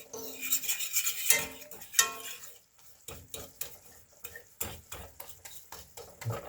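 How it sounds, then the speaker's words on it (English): Flour being stirred into a chicken dish in a pan, giving repeated scraping and rasping strokes with light utensil clatter, fairly faint and uneven, with no talk. "just keep stirring it until it like breaks down"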